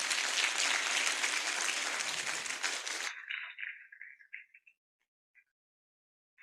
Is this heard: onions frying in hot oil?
no